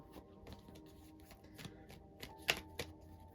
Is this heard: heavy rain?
no